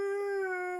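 A dog lets out a single steady, tonal howl, held evenly for under a second, close and alone with no other sounds.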